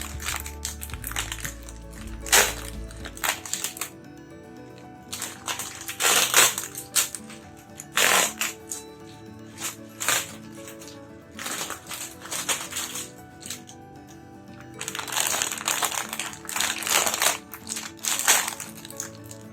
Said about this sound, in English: inside is one big plastic bag of runners. Let's open it.